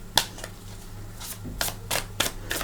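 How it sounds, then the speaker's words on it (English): Tarot cards shuffled by hand, a few separate riffling bursts spread across a short stretch, close and fairly quiet, with no talking. "So we're going to shuffle."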